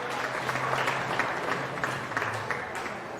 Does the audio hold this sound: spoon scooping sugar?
no